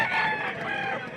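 Rooster crowing once at a chicken market, a single clear, fairly loud call over a brief moment.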